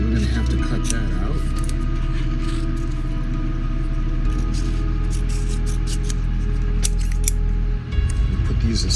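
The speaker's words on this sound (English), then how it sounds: "I'm just going to cut those in half right away." Scissors snip through plastic model kit parts for a damaged USS Reliant build from Star Trek II, giving a few sharp, close cuts over a steady background hum.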